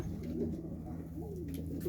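Pigeons coo in low, soft, rolling calls close by in hot weather, a couple of drawn-out phrases over a steady low hum, quiet and without talk.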